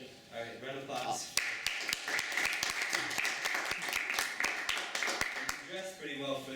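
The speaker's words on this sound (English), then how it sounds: "All right, round of applause." Applause from a Toastmasters club meeting audience at UGA: steady, moderately close clapping with sharp individual claps standing out, with voices heard at the start and end.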